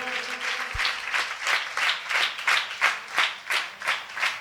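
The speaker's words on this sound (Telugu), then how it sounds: "పిల్లలు చక్కగా గట్టిగా చప్పట్లు కొడదాం." A group of children claps loudly in unison, about a dozen strong, evenly spaced claps in a steady rhythm, close and forceful.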